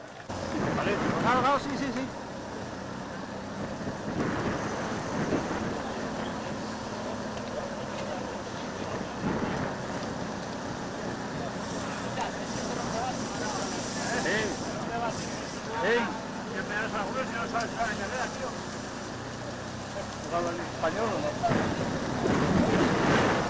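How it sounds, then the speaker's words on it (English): Wind buffets the microphone during a cycling race stage, a steady, rushing roar with gusts rising and falling beneath a commentator's talk throughout. "You can see the wind coming in and around here."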